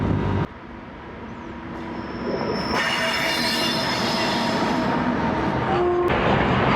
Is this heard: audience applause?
no